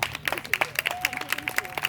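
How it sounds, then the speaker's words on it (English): A short burst of scattered clapping from a small group of guests at a 50th anniversary vow renewal, uneven and somewhat thin, with a voice faintly audible underneath. "Let's just clap for Gall."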